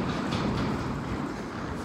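A train in the New York City and Long Island area fills the space with a steady, loud, broadband rumble and roar that runs unbroken throughout.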